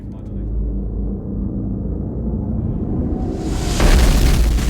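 A heavy, rumbling explosion in the film The Fifth Element builds into a loud roaring burst with dense low booming that swells toward the end.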